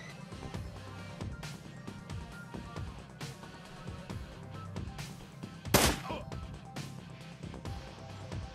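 Shotgun blasts and gunfire from the Shadowrun Returns video game, a sharp loud burst near the middle standing out over a steady busy backdrop of game music and effects, with a voice talking over it.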